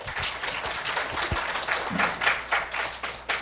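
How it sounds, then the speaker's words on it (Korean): An audience at a Seongbuk youth climate-justice event at Gyeseong High School applauds, a steady wash of many hands clapping close and moderately loud for several seconds, with no talk over it. "큰 박수 부탁드립니다"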